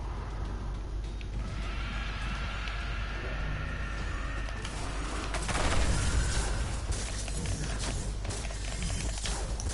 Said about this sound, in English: All of them exploded.